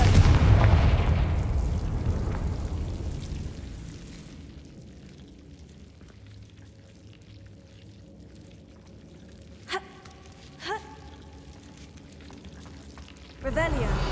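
Confringo explosion spell cast in the Hogwarts Legacy video game: a loud booming blast that rolls off over several seconds, followed by quieter game ambience, two short chiming pops, and a fresh burst of noise at the end.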